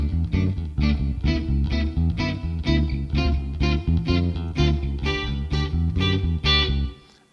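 A bass guitar plays a busy, melodic figure over a full band arrangement, loud and rhythmic, notes moving steadily for about seven seconds before cutting off.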